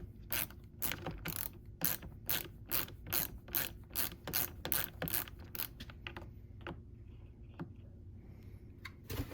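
Ratchet with a 5/16-inch socket working on a Stihl MS 661 chainsaw during a tank swap, giving a run of quick, close clicking ratchet strokes in bursts that thin out toward the end, with no talking.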